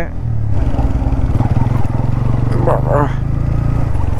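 Motorbikes and cars move along a narrow, rain-soaked road in the evening, a steady engine rumble with revving passing close by, while a person talks throughout.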